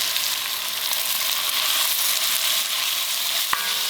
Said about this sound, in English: I'm just going to cook this until it just starts to lose its pink color